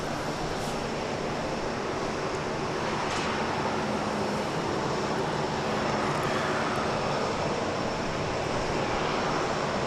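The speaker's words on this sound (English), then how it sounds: "Here goes the flight to Burbank, flight 1548." A Southwest airliner, flight 1548 to Burbank, takes off at Dallas Love Field, its engines a loud, unbroken roar that fills the whole stretch with a steady, rushing drone.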